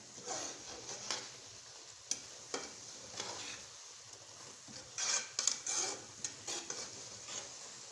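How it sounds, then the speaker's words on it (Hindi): A spoon stirs a sesame laddoo mixture in a pan, making quiet, close scraping and rubbing strokes with occasional soft taps against the pan, fairly faint overall. "हाथ को रोकना नहीं है, चम्मच इस तरफ चलाते रहना है।"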